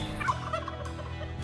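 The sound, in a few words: wild turkey gobbling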